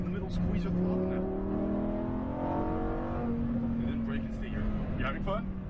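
Lamborghini Huracan Performante accelerating hard on a race track, a loud sustained engine drone with rising and falling pitch under an instructor's coaching voice throughout.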